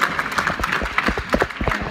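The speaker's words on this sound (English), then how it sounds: "Let's clap our hands for her." Church congregation applauding at a multicultural Baptist service, a dense, fairly loud burst of many hands clapping at once.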